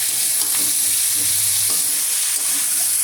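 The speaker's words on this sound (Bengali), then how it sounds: "আজকে আমি রান্না করছি শিম, চিংড়ি মাছ, পেঁয়াজ, কাঁচা লঙ্কা, আলু দিয়ে পালং শাকে" Spinach frying with beans, prawns, onion, green chilli and potato, a loud continuous sizzle with occasional stirring knocks, close and with no talk.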